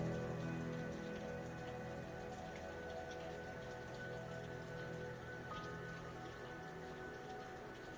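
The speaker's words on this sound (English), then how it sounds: "We're going to have another rainfall." Steady heavy rain falls throughout, a dense continuous patter of drops on surfaces at an even, loud level with no voices.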